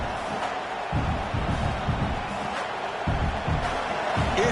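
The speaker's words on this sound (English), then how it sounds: "this crowd is fired up. Listen to this noise here." Dense roar of a large stadium crowd in the NCAA 26 college football video game, Arkansas versus Michigan, a steady wash of cheering with swells and dips, under faint commentary.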